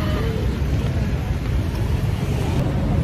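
Busy night street traffic with motorbikes in Ho Chi Minh City, a dense continuous low engine rumble and roar close by, steady and unbroken throughout.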